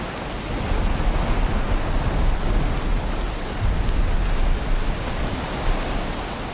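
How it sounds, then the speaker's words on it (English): Ocean waves in the video game Valheim wash in a steady, broad surf roar, loud and continuous with slight swells, alone without voices. "Just the sounds of these waves and everything is really fucking annoying."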